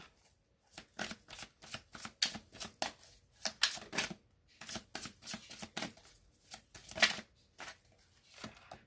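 Tarot cards are shuffled by hand in a steady run of crisp riffling bursts and soft flicks, close and quiet, with short pauses between groups of rapid snaps.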